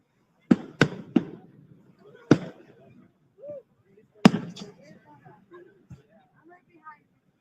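Canada Day fireworks bursting over Pickering at night, a quick cluster of sharp, loud bangs followed by a single later blast, with crackling tails and soft voices chatting between explosions.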